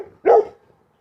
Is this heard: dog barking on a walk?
yes